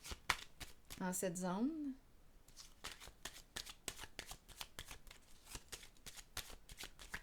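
Tarot-style playing cards handled and set down on a table, a run of quick crisp snaps and flicks with a brief spoken phrase near the start, close and fairly quiet.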